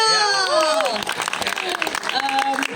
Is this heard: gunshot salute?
no